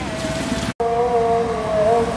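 An old Nissan diesel truck engine hums loudly and steadily nearby, with a brief cut in the middle before the drone resumes with a rising tonal whine.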